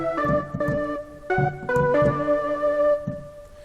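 Omnisphere oil can guitar layered with an orchestral flute plays a short melodic phrase of sustained, bright tonal notes, with plucked attacks at the start and a gentle fade at the end, with no talking.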